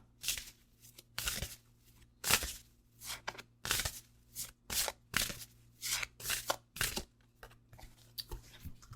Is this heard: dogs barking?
no